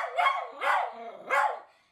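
Three loud barks from a dog left alone at home, evenly spaced close together with brief pauses between, each bark harsh and full, with no voices.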